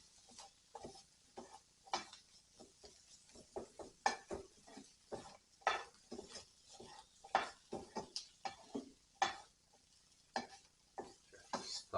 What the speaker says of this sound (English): just fry that garlic off just a little bit